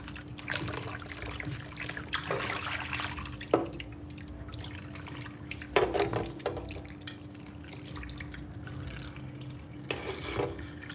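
Potatoes are rinsed under running tap water in a kitchen sink, a continuous trickle with occasional louder splashes and knocks as they are handled, with a low hum beneath and no talking.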